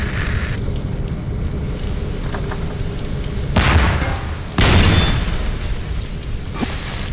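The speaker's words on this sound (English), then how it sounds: "The whole place is on fire." Fire roaring through a facility in Nightmare House 2, a steady loud crackling rush with two heavier surging bursts partway through and no voices.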